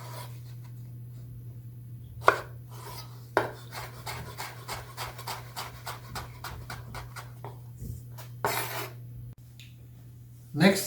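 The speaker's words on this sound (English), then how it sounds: "And then I'll start on the dicing of a mango." A knife dices a mango in a rapid, even series of light chopping taps against a cutting board, close by over a steady background hum, with a few louder knocks between.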